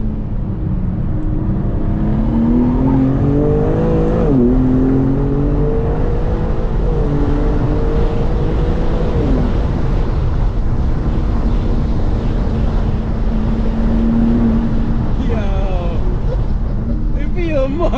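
A 2021 BMW M4 Competition drones loudly and continuously during a drift drive, its revs rising and falling, heard from inside the cabin while voices talk over it.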